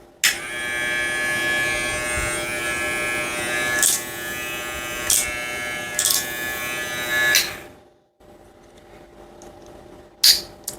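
A TPOB Slime 2 electric hair clipper running close by, a loud steady high-pitched motor buzz with a few clicks and jolts, then it switches off and a short click follows.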